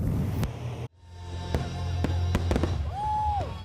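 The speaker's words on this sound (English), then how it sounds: "Fireworks on the 4th are as old as the country itself" Fourth of July fireworks exploding outdoors, a cluster of sharp cracks and booms over a rumbling wash, with a rising whistle toward the end, loud and near.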